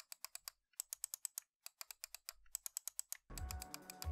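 Buttons on a Gigabyte Aorus M6 computer mouse are clicked in quick, crisp bursts of close, sharp clicks, followed by a louder rush of background noise at the end.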